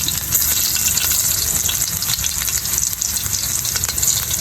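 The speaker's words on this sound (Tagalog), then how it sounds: "Iniinit ko na itong kawali natin. Ilagay na muna natin ang ating bawang." Garlic fries in a heated pan with a loud, close, unbroken hiss and crackle that holds steady throughout.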